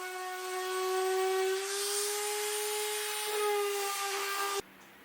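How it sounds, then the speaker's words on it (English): A random orbit sander with 60-grit sandpaper works over table-saw-cut wooden pieces, giving a steady, close motor whine with a buzzing grind that runs unbroken for several seconds, then cuts off abruptly. "I sanded out the burn marks from the table saw blade with the random orbit sander and 60 grit sandpaper"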